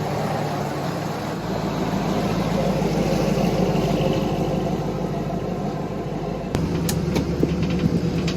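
A classic truck's engine runs steadily through a steering test drive, a continuous mid-pitched drone with faint rattles near the end.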